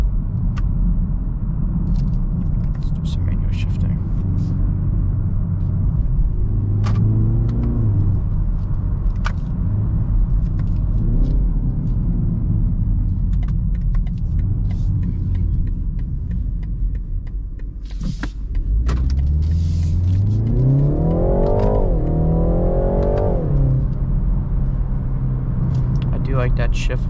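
A 2024 BMW 330i engine heard from inside during manual gear shifts, steady low drone with repeated rises in pitch as revs climb between shifts, a louder sweep near the end, with someone talking over it.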